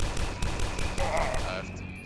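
Rapid gunfire from a weapon in the first-person shooter Dusk crackles densely under a dense game mix, steady and continuous with a low rumble beneath.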